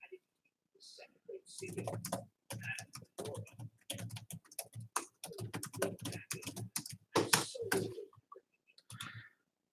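Rapid keyboard typing, a dense run of clicks and key taps close by, continuing steadily for several seconds with brief pauses.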